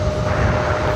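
An Airbus A330-200 airliner at JFK airport, a steady broadband engine roar with a faint tonal whine, loud and continuous for a brief moment.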